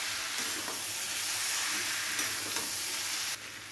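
Potatoes frying with spices for North Bengal egg aloo ghati, giving a steady close sizzle with a few light stirring knocks; the sizzle drops slightly near the end.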